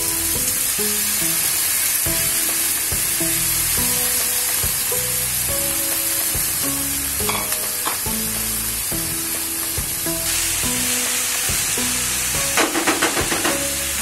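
Onion sizzles and fries steadily in a hot pan for a red amaranth leafy vegetable stir-fry, a dense continuous crackle with stirring clatter, while instrumental music plays throughout.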